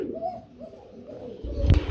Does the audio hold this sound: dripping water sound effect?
no